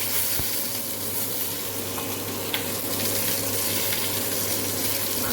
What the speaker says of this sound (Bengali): বাকি আর মাথা টাথাগুলো আছে ওগুলো ভেজে নেবো ফটাফট